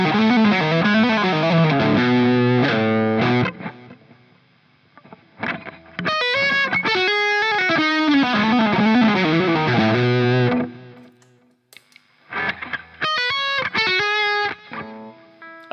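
Electric guitar played through a Soldano distortion pedal with the treble turned down, giving a smooth, saturated tone in sustained chords and riffs, loud and alone, with brief pauses between phrases.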